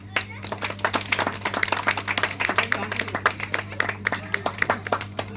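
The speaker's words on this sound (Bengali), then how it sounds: "জোরে হাততালি" An audience claps loudly at a Durga Puja clothing-distribution gathering, a dense run of many hands clapping steadily throughout over a low electrical hum.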